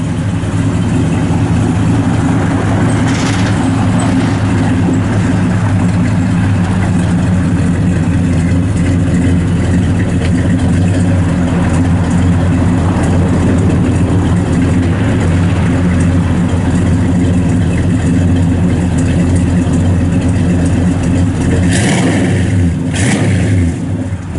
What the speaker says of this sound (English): Got a mild cam in it,